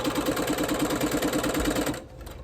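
Sewing machine stitching a log cabin quilt, a fast rhythmic mechanical whirring close by that stops abruptly near the end, with no talk.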